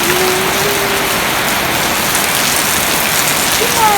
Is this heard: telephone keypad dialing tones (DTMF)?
no